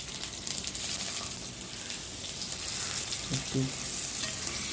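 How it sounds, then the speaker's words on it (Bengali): Potatoes fry in hot white oil in a wok, giving a steady, close sizzle throughout with a few stirring scrapes near the end, and a brief voice speaks over it. "এবার আলুটা দিয়ে ভেজে নেব,"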